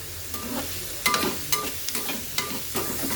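Mixed vegetables fry in a pan while being stirred, with a close, soft sizzle broken by repeated scraping and clinking strokes of a spoon at an uneven pace.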